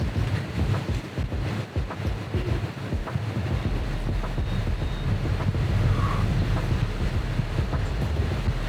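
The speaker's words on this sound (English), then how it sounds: "53 knots of wind just went from 12 knots to 53 knots in the matter of seconds" Strong microburst wind gusting from about 12 to 53 knots roars across a sailboat. It makes a dense, continuous rushing buffet with heavy low rumble from wind hitting the microphone, steady and loud throughout with no voices.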